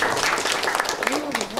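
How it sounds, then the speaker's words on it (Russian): Audience clapping for a family with a first-grade daughter at a school family breakfast in a lyceum, a brief burst of hand claps mixed with a voice speaking over it. "Аплодисменты."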